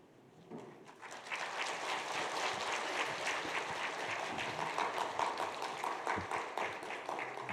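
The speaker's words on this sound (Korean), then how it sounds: "한번 박수하겠습니다" Church congregation applauding a pastor as he comes forward to preach at a Sunday worship service; dense sustained clapping from many hands starts after a brief quiet moment and carries on steadily throughout.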